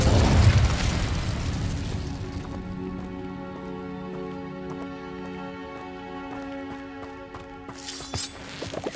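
Incendio fire spell cast in the video game Hogwarts Legacy, opening with a loud fiery burst that settles into a sustained shimmering, ringing magical tone, with another bright flare near the end.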